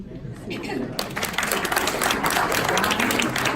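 An audience at a memorial gathering breaks into warm applause for a family member who stands, with dense, sustained clapping rising suddenly after a quiet start, mixed with scattered voices and light chatter.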